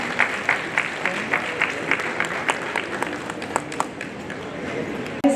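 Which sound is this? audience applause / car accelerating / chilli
audience applause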